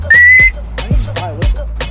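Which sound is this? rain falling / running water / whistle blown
whistle blown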